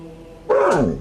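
A single loud, close dog bark, brief and throaty with a falling pitch, after a quiet room.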